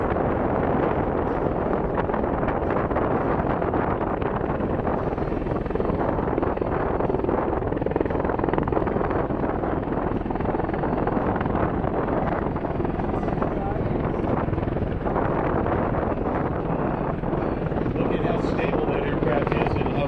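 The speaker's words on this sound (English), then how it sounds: "Watch as they bring the aircraft into a hover low over the runway." A V-22 Osprey tilt-rotor aircraft hovers low over the runway at an Orange County, New York airshow, its heavy rotor roar and wind rumble loud and unbroken, while an announcer talks over it.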